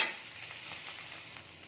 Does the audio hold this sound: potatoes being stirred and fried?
yes